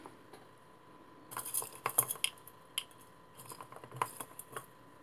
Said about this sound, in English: And stir it up with a toothpick.